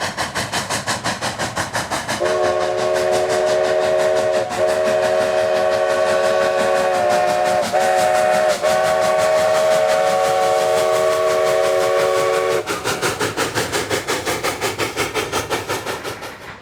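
Cumbres & Toltec narrow-gauge steam locomotive climbing a steep grade of over 4 percent near a trestle, its exhaust chuffing rapidly and loudly while a long multi-tone steam whistle sounds in several sustained blasts.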